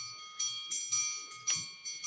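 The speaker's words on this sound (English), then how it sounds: "My wind chimes are going to go off." Outdoor wind chimes on a Texas evening ring softly in a few scattered, overlapping metallic strikes with sustained tones, faint and distant.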